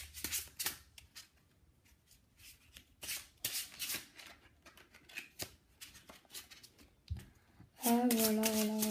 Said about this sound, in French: Nous avons notre paquet bien mélangé.